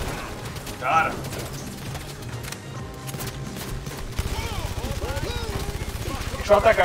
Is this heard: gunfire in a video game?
yes